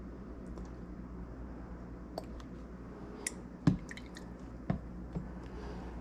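Thick rich evaporated cane syrup goes into a Mai Tai with a few soft, quiet drips and squishy plops over faint room noise, no talking.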